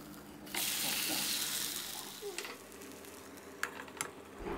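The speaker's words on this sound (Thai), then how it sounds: "พลิกอีกด้านนึงเลยครับแล้วก็จี่ต่ออีก5นาทีนะครับ" Banana khanom babin cooks slowly over low heat in a covered pan, giving a steady soft hiss with a few faint clicks and taps from the lid or pan.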